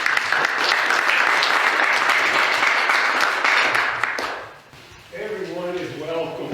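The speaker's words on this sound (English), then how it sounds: "So if we got a round of applause." A club meeting audience at the Atlas Cement Company Museum bursts into a loud, dense round of applause lasting several seconds. It then fades, and a voice begins talking.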